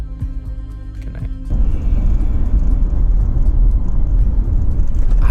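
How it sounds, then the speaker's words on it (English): A car rolls along a bumpy road, with a low continuous rumble and road noise swelling after a quieter opening moment, steady and close, with no talking. "The car is very bumpy"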